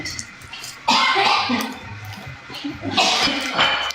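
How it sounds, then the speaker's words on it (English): A few coughs break through a muffled background of voices and room noise, one sharp burst near the start and another toward the end. "her lovely cough going on in the background"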